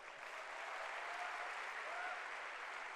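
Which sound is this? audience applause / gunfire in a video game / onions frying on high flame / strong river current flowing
audience applause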